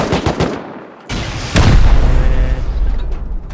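A rocket blast in the survival game Rust: a rapid crackle of shots, then a heavy booming explosion that rumbles and decays over a few seconds, loud and close, without talk.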